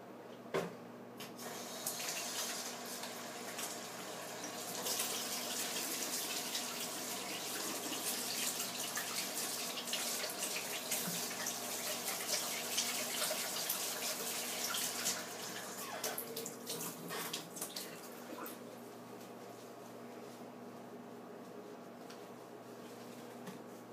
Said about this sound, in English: I'm going to start off by washing my hands.